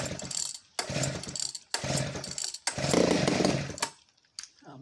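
A vintage Clinton D55 chainsaw is pulled to start, sputtering to life in several loud bursts of engine revving separated by brief pauses, then cutting out near the end.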